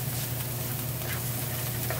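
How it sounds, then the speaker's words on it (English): Dungeness crab stir-frying in a pan, a dense, continuous sizzle and crackle at close range with no pauses. "Stir frying is just my way."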